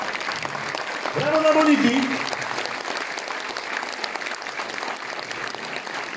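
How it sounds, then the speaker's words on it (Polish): Audience applause at a birthday celebration during a concert in Zalasewo, clapping swelling briefly then settling into steady applause beneath a shouted cheer and ongoing voices. "No wstań, że poklaszczemy ci."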